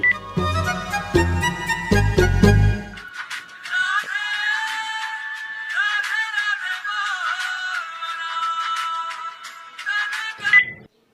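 A phone ringtone plays a repeating electronic melody for several seconds, loud and close, after a brief burst of other sound at the start.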